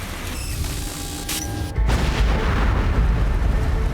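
An overheating electrical transformer explodes with a sudden deep boom that gives way to a heavy, sustained low rumble, loud and close.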